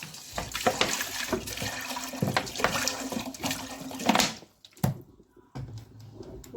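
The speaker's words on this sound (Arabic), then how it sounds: "وهتحطي فيها شوية مية من الحنفية عادي خالص." Tap water gushing into a cooking pot holding rice, a loud steady splashing rush that cuts off abruptly near the end, followed by a brief clank and a short final trickle.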